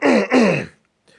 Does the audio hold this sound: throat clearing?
yes